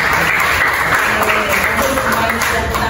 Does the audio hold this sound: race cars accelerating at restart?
no